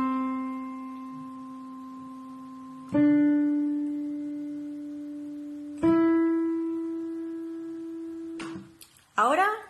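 Three sustained musical notes rise step by step as do, re, mi, each struck cleanly about three seconds apart and left to ring and slowly fade, followed by a brief rustle.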